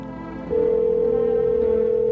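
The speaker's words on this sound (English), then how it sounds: "I can use the phone. We can call the neighbor." A steady telephone dial tone in a horror video game, heard while calling the neighbor. The tone starts abruptly after half a second and holds at an even level over low background music.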